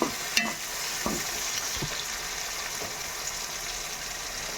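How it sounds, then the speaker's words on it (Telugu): Onions frying in a pan for a beef dish, an even close sizzle with a few soft scrapes and knocks from stirring near the start, no voices. "ఉల్లిపాయలు ఈ విధంగా ఫ్రై అవ్వాలి"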